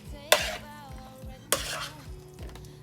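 Vegetables for a pasta salad — tomatoes, black olives and marinated artichokes — being stirred with vinaigrette in a bowl: two sharp scraping clinks, each trailing into soft wet tumbling, fairly close and with no talk.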